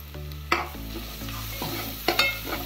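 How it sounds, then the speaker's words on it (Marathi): Masala powder stirred into chicken in a pan, a spoon scraping a few times with sharp clinks and a faint sizzle underneath, close and fairly quiet, no talking. "मसाला पावडर ढवळते"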